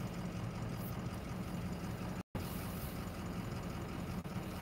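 A diesel engine idles steadily throughout, a continuous low rumble with a faint knocking texture, broken only by a brief dropout near the middle, with no talk over it.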